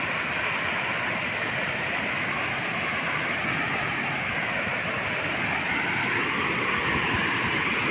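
Fountain water at Villa d'Este in Tivoli thundering down, a loud, continuous broadband roar of falling water that holds steady throughout with no talking.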